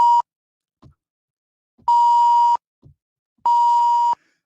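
Three short electronic beeps from a beep button, each a steady mid-pitched tone under a second long, separated by pauses, with a soft click of the button just before each one.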